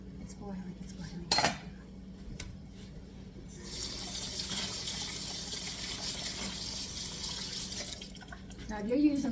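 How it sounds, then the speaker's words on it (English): Water bubbling at a steady boil in a pot on a kitchen stove while making wild rice and mushroom soup, a continuous hiss with brief clinks of pans and utensils, close and moderately loud. "It's boiling, it's boiling."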